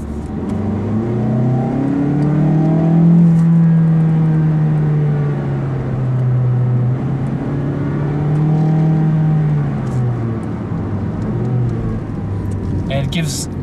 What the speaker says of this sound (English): But basically the engine revs higher.